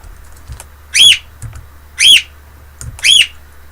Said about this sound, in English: My bird in the background there.